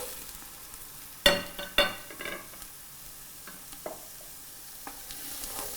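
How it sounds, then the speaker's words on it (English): Carrots and onions sauté in a pot for chicken and wild rice soup, with a quiet sizzle under two sharp utensil scrapes and clacks of stirring, followed by a few lighter taps. "And just continuing to stir every once in a while."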